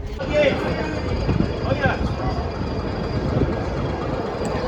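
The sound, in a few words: Ooty to Coonoor toy train moving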